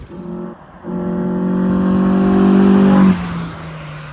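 Volkswagen Golf 4 engine fitted with a sport air filter, driving on a road: a loud, sustained engine drone that rises as it accelerates, holds strong, then drops back off near the end, with no talking.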